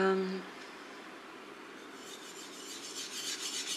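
A sashimi knife blade rasps against a whetstone in close, repeated sharpening strokes, the grinding scrape growing louder and denser toward the end.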